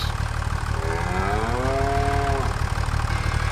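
Beef cattle in the Farming Simulator 25 video game let out a single long, drawn-out moo that rises and falls over a steady low engine idle, fairly close and clear.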